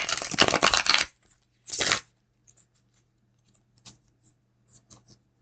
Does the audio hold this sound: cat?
no